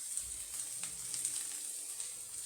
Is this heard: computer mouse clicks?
no